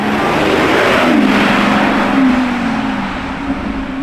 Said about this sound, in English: Oh hell yeah, another Revuelto in a beautiful yellow spec.